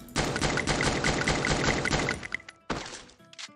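An updated weapon in Free Fire fires a rapid automatic burst of closely spaced shots for about two seconds, loud and near, followed by a short pause and a few trailing shots.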